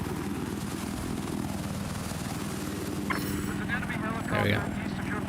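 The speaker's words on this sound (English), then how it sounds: "There's an enemy helicopter." An enemy helicopter in the Battlefield video game drones steadily as a low rotor hum throughout, mixed with game effects and brief bursts near the end.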